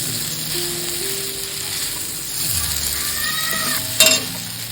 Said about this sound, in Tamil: ஒரு நிமிஷம் வதக்கிட்டிங்கன்னா போதும் உருளைக்கிழங்க